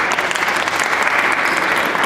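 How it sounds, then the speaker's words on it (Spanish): A seated audience at a presentation on the new boom of 1960s Latin American cinema breaks into loud, dense applause, a sustained close roar of clapping hands from start to finish. "Muchas gracias, un aplauso,"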